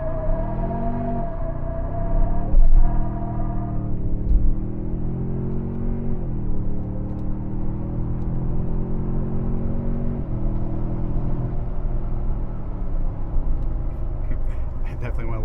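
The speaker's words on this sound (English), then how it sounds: "I'm gonna put this thing into two-wheel drive and see how it" A 2022-or-newer third-generation Toyota Tundra pickup with a JB4 tuner, shifted into two-wheel drive, accelerating hard: a loud, steady engine drone that rises in pitch through several gear changes, with a voice speaking over it.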